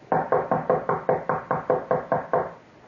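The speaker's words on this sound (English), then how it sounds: "I kept knocking on the door." Ten crisp, evenly spaced knocks on a wooden door, close and loud, in a quick steady rhythm before stopping.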